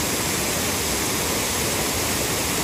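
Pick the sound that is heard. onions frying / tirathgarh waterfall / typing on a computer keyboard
tirathgarh waterfall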